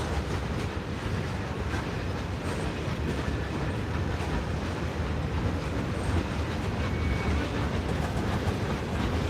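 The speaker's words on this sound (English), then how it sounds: "As our train going out of the north end continues to roll past." A freight train rolls steadily past close by, a continuous heavy rumble with faint rhythmic clacking of wheels and no voices.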